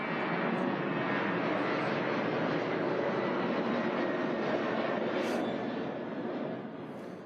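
Airplane passing low overhead at an outdoor rail project groundbreaking, a loud, broad roar that holds steady and drowns the surroundings before easing slightly at the end.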